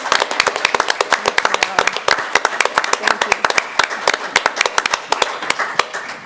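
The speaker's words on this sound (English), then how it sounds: "I would just ask a round of applause for these wonderful young ladies." A room full of people at a town board legislative meeting breaks into steady, dense applause, many hands clapping close together without pause for several seconds.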